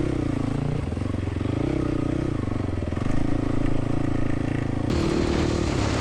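An XR motorcycle rides out of a rocky riverbed, its engine droning steadily and loud up close, with rises in revs and a rattle of gravel and clatter under the wheels.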